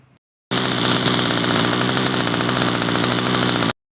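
A Homelite UT33600A string trimmer with a freshly repaired carburetor idles loud and close in a steady, even drone for about three seconds, then cuts off abruptly.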